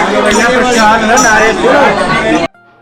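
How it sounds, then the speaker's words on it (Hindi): Dense crowd chatter fills the grounds of Baijnath temple in Kangra, a steady near babble of many overlapping voices that runs loud and continuous before cutting off abruptly near the end. "काफ़ी भीड़ रहती है यहाँ पर"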